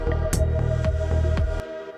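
A melodic synth lead from a Pigments preset plays over a looping drum and bass pattern, steady and upfront for about two seconds before cutting off.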